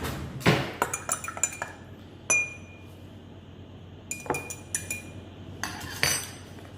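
Glass vials of water being stirred after a few drops of test reagent, giving a series of bright clinks and taps at close range, some sharp single knocks spaced irregularly between quieter rattles.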